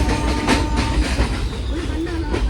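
A train passing in Mumbai, a steady rumbling rail clatter with faint wheel squeal heard close by throughout.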